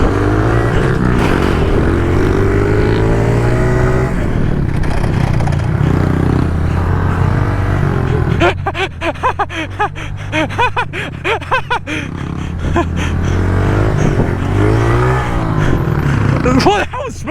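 A pit bike engine chugs and revs, surging unevenly, with rattling mechanical clatter partway through. Voices talk and exclaim loudly over the engine throughout.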